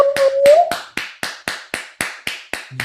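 Finger snaps and claps at a stay-at-home open mic form a crisp, evenly spaced beat of about a dozen sharp hits, close and loud, with a brief whistling tone at the start.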